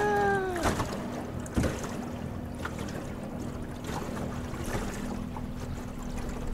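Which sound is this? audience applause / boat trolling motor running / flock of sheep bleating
boat trolling motor running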